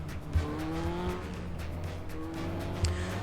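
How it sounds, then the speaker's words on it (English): A Legends race car rolls away on a UK short oval at Buxton, its engine a low, steady drone that slowly rises in pitch, heard from a distance with a broad layer of track noise underneath. "So car starting to roll away, yellow flag goes up"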